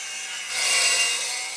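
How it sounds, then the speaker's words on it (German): Wood is hand-sawn during construction of a tiny house, a steady rasping stroke that swells in the middle and eases off, close and alone without voices. "Erstmal heißt es weiter sägen und schleifen"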